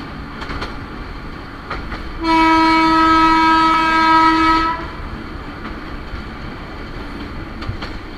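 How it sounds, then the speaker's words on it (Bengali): A Dhaka–Narayanganj commuter train sounds a long, loud horn blast of about two seconds at Gandaria station, close by, over the steady rumble of the railway. "কাঙ্ক্ষিত ট্রেনটি তার প্রথম যাত্রা বিরতি নিল গ্যান্ডারিয়া রেল স্টেশনে।"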